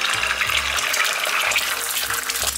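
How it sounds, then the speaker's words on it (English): Loud, steady crackling hiss of an egg hitting smoking-hot oil in a pan, filling the clip with dense broadband sizzle and no talk. "when you see it starting to smoke, you just drop your egg in there."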